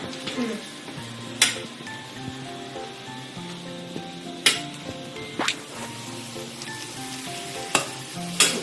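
Maggi noodles stirred in a pan over low frying sizzle, with a few sharp utensil scrapes and clinks against the pan spaced through the clip; background music-like tones sit underneath, no talk.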